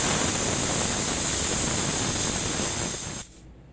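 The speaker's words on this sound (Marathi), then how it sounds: "3 शिट्ट्यानंतर कुकर आपला मी थंड झालेला आहे" Pressure cooker on a gas stove cooking varan bhat, a loud continuous steam hiss rushing steadily for about three seconds before cutting off abruptly, close with no talk.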